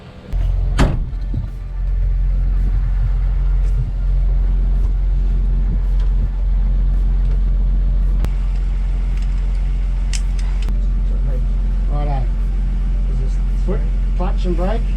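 A Toyota FJ40 Land Cruiser engine idles steadily close by, a strong low rumble throughout, with a door or clunk near the start and people talking over it.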